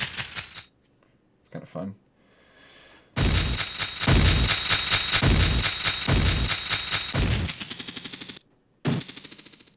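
A hook shot sound sample plays in rapid machine-gun-like bursts, dense, loud and punchy, with sharp stops and restarts, while a voice speaks briefly over it.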